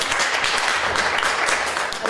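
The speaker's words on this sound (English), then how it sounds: "You deserve another clap." Audience applause following a sign-language-interpreted performance, steady dense clapping that holds at an even level throughout the short stretch with no voices on top.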